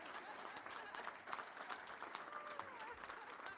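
Audience applause at a touchdown club gathering in Little Rock, a steady wash of many hands clapping at moderate distance, fairly faint and continuous for a few seconds with no talk over it.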